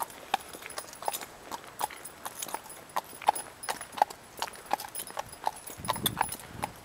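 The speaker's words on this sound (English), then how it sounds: "turn your horse around, ride it back the way you came from" Horse hooves clip-clopping steadily on pavement in Washington DC, a close, even rhythm of sharp clacks that keeps going throughout with no talk.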